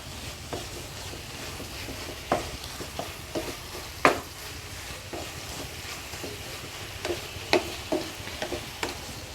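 Carrot halwa being stirred in a non-stick pan, a soft ongoing bubbling sizzle broken by sharp spoon scrapes and knocks against the pan at irregular intervals, close and fairly clear with no voices.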